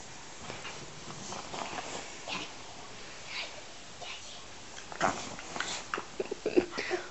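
A small dog whimpers and snuffles softly nearby amid faint rustling, with a few sharper yelps near the end.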